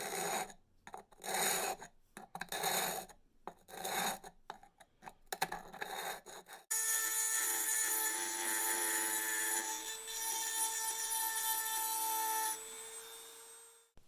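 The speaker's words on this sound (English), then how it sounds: "I am going to try to square up this broken edge with a file." A hand file scrapes the broken edge of a ceramic mug in short, uneven rasping strokes with gaps between them. A denser, continuous gritty scraping follows, close and fairly quiet, with no voices.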